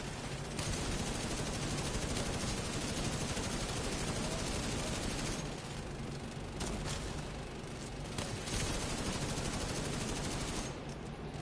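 Sustained automatic gunfire in The Division 2 fills the whole stretch, a dense, loud, continuous rattle of rapid bursts with brief dips in intensity but no pauses; no one speaks.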